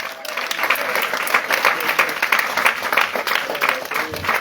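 A church congregation at a Christian spiritual-warfare gathering breaks into sustained applause and acclamation, dense clapping mixed with shouting voices, loud and continuous throughout.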